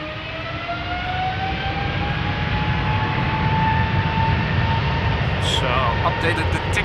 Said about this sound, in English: the next departure will be China Southern Cargo to Shanghai